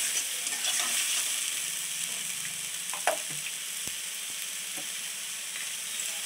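Spice paste stir-frying in a pan after a pinch of sugar and the spice-grinding water are added, giving a steady close sizzle with occasional scrapes and clinks of a spatula throughout.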